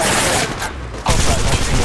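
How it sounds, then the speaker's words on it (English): Dense video game gunfire in Apex Legends Mobile, loud close bursts of rapid shots broken by a short lull before the shooting resumes. "The enemies are shooting at me."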